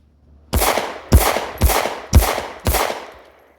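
Five sharp pistol shots from a subcompact handgun on an outdoor range at 15 yards, fired at an even, steady cadence, each a loud close crack with a brief decaying tail.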